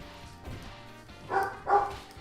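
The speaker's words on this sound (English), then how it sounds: "I'm sorry for Bella barking there" Two loud, deep barks from a big dog come close together near the end, after a stretch of quiet background noise.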